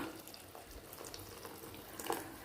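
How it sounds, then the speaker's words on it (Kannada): Water pours and splashes steadily into a pot, with a brief brighter splash near the end and no voices. "ಈ ನೀರು ಹಾಕ್ಬಿಡೋದು"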